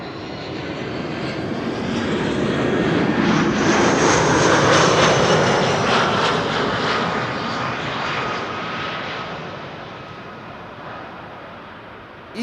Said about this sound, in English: EasyJet A319 arriving from Marrakesh, which of course is in Morocco in the north of Africa.